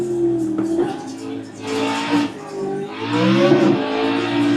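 Racing car engines rev and whine in a driving video game, a steady loud droning roar that rises and falls in pitch with gear changes while a voice talks over it.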